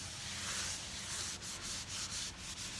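Something is scrubbed during cleaning, giving a faint, continuous rubbing hiss with soft repeated strokes, close by and with no voices.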